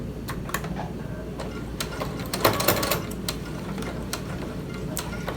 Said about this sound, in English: We're going to back stitch. We're going to sew off, and we're done.